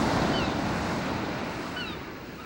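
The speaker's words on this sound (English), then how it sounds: "But the waves, the sound, it's drowning everything out." Ocean waves crash and wash against a ship's deck in the video game Steambot Chronicles, a loud continuous surf roar that slowly eases, with faint whistling tones above it.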